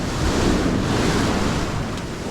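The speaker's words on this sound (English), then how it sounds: "Wait for this next wave to come through and cast right out the back of it." Ocean waves wash onto a beach on a fall morning, seen while surf fishing, with a loud continuous roar of surf and heavy wind buffeting the microphone throughout.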